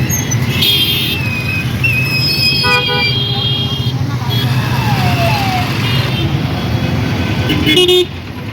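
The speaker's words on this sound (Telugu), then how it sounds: "ఫుల్ ట్రాఫిక్ ఉంది." Busy street traffic in Proddatur with several car horns tooting over a steady roar of engines and passing vehicles, a bus among them, with people talking nearby throughout.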